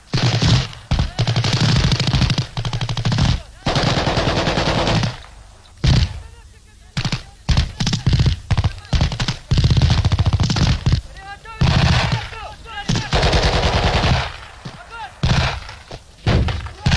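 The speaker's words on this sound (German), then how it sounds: "Besondere Aufmerksamkeit gilt der Schießausbildung. Ihre Verpflichtung, Treffen mit dem ersten Schuss." Machine gun fire at an East German NVA army shooting drill during 1980 field maneuvers: loud, repeated bursts of rapid shots and thuds, with someone speaking between and over them.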